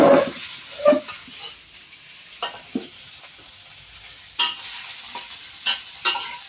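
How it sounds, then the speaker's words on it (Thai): Minced pork stir-frying in a pan with garlic-scented oil for egg fried rice: a soft, steady sizzle broken by a few sharper spatula scrapes and clatters spaced through the stretch. "ใส่หมูครับ หมูสับ ก่อนให้มันสุกๆ"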